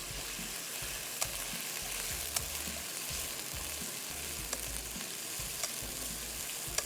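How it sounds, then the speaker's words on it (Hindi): Chicken sautéing in a pan for tandoori chow mein gives a steady, even sizzle and frying hiss, with a few faint clicks of stirring, moderately quiet and free of talk. "चिकन को थोड़ा सौते करेंगे"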